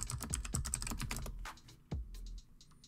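Password typed on a computer keyboard during an Ubuntu 20.10 setup: a quick run of crisp, close key clicks, a pause, then a few more taps, with no voices.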